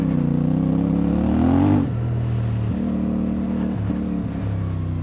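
A CF Moto 450 MT adventure motorcycle pulling in second gear, its engine droning with rising pitch, then dropping and holding a steady note with a couple of short throttle blips, loud and close.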